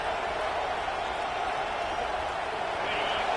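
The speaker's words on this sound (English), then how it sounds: "This crowd trying to make life miserable for this offense." A college football stadium crowd fills the air with a dense, unbroken roar that holds steady and loud throughout.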